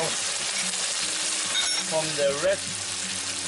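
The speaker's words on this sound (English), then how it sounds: "During the deglazing part, it's important to scrape the bottom" A pan being deglazed after browning tomato paste for a demi-glace, with steady sizzling and a utensil scraping the bottom, a few short metallic scrapes standing out near the middle.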